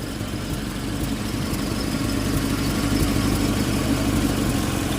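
A car engine idles nearby while its alternator is wired direct. The steady low rumble grows slightly louder and fuller partway through.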